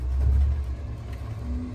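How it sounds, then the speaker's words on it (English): A bin lorry's engine rumbles past outside, a loud low drone that swells early and then fades to a steady hum, heard from indoors. "come on, bin truck"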